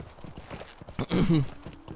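Horse hooves clip-clop in a steady rhythm in the Lord of the Rings Online game, with a brief louder burst of hoofbeats in the middle; no one speaks.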